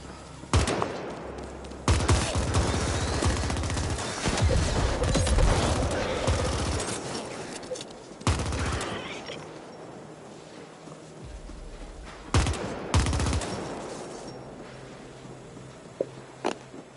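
Rapid video-game gunfire in the cyberpunk shooter The Ascent, loud bursts of automatic shots in clusters with mechanical weapon clicks, pausing between volleys and resuming, no talking.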